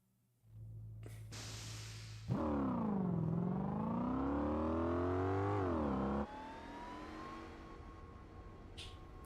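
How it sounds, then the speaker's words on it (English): A supercharged car in Gran Turismo 4 revs up with a rising, wavering engine whine that climbs and sweeps for several seconds and then drops to a steadier drone as another car passes. "you hear the supercharger whine and you hear whatever it is coming past"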